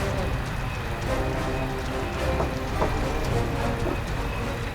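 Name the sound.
rain during spring storm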